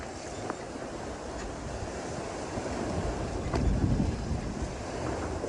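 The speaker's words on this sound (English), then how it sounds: "We've got 15 knots of wind, easy sailing." Steady wind rushing over the microphone with broadband wash of sea and waves alongside an Amel Super Maramu sailing yacht in about 15 knots of breeze, a continuous close roar that swells slightly midway.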